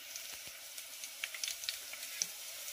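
A kadhi mixture is poured onto a hot fried tempering in a pan for dhaba-style kadhi pakoda, bringing a soft, steady sizzle with small crackles and pops, fairly faint and with no talking.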